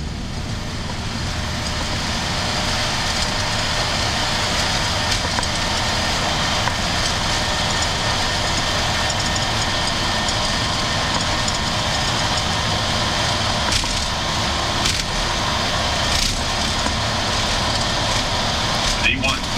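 Ethiopian Airlines Boeing 737 jet engines on the takeoff roll departing Addis Ababa, runway 07, a steady loud roar with broad rumble and whine that holds throughout without letup.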